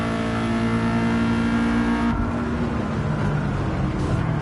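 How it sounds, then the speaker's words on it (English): A Subaru boxer engine in Gran Turismo 7 holds a steady, loud drone at high revs, then the pitch drops sharply as it comes off throttle and runs on with a rougher, lower tone. "I love the sound of the Boxster engine."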